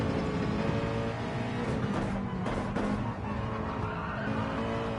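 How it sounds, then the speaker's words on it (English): NASCAR Cup car in a racing game at Watkins Glen: a loud, droning engine roars steadily, with brief harsh breaks and tire squeal midway as the gears drop. "Those downshifts, brutal."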